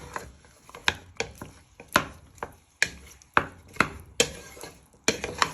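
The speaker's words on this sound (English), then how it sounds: "So you're just stirring it all in, coat it into your beef." Beef with onions and garlic stirred in a pan for a beef and mushroom noodle dish: a steady run of sharp clinks and scrapes, about two per second, close and fairly loud with no talking.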